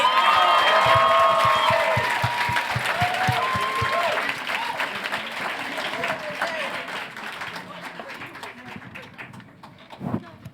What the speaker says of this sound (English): So I think they deserve another round of applause.